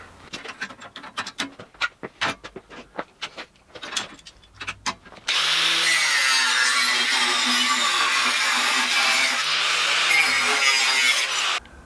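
Steel pieces being cut for a rear axle setup: several scattered knocks and taps at first, then a loud, continuous harsh grinding-cutting roar that runs close up to the end.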